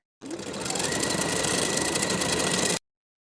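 A sewing machine stitches the short ends of a pajama waistband elastic together, running in one steady, continuous motorized whir close up for about two and a half seconds, with no talk.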